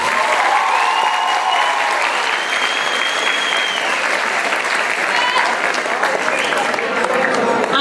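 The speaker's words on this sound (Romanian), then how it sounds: "Să le oferim încă un rând de aplauze celor de CFR." Applause from the audience at a high school freshmen's ball in Măcin fills the hall, dense and sustained for the whole stretch, with whistles and crowd noise mixed into the clapping.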